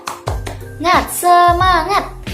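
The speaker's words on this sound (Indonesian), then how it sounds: "marilah kita tepuk semangat terlebih dahulu. Tepuk semangat." Primary schoolchildren perform a rhythmic spirit clap, with sharp, close hand claps landing in a patterned beat while their voices chant along loudly between and over the claps.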